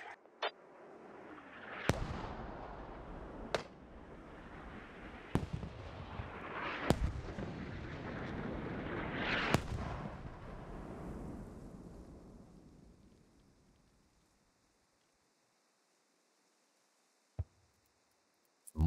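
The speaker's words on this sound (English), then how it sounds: "Mortars need to be a bit more spread." Mortar rounds land in a Squad battle, a string of heavy booming impacts at irregular intervals with rolling rumble that fades into near silence, followed by a couple of isolated sharp bangs.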